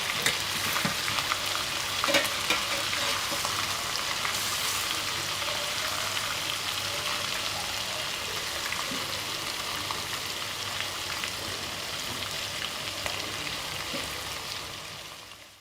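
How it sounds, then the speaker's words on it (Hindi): Pieces of meat deep-frying in oil for biryani in a home kitchen, a dense continuous crackling sizzle, close and steady for about fifteen seconds with no voices. "दूसरे पीसेस भी मैंने तल लिए हैं"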